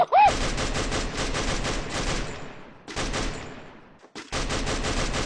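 Rapid automatic gunfire from a shooting video game, dense continuous bursts of shots rattling on for several seconds with two brief pauses, loud and close, with faint talk underneath.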